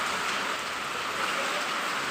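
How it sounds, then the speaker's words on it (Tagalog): Steady rain falls in a continuous hiss, dense and even, with no voices or other sounds standing out. "tuloy-tuloy pa rin yung ulan"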